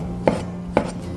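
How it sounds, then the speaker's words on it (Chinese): A knife slices through shiitake mushrooms on a cutting board, two crisp evenly spaced chops close by over a faint steady hum. "准备洗净的香菇，先片成2瓣，然后切片，"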